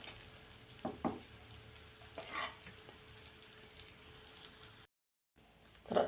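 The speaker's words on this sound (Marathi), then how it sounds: "अशाच पद्धतीने आपण दोन्ही साइडने हा तेल लावून भाजून घेणार आहोत." Matar dosa, a green pea dosa, frying in oil on a pan, with a steady low sizzle and a few soft scraping touches, a short silent gap, then a brief louder burst at the end.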